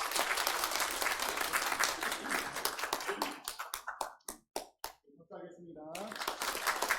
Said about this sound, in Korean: 우리 뜨겁게 박수로 축복하겠습니다.